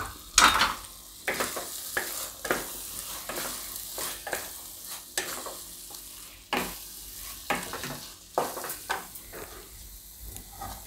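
Potatoes frying in a hot pan for a mixed vegetable dish, a continuous sizzle broken by repeated scraping stirs and sharp spoon clinks on the pan at an irregular rhythm, close and moderately loud, with no voices.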